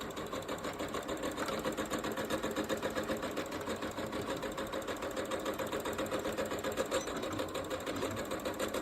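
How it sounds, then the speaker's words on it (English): Sewing machine back stitching a seam on a nine-patch quilt block, a steady rapid needle chatter running continuously at close range with an even mechanical rhythm throughout. "I am going to back stitch this one"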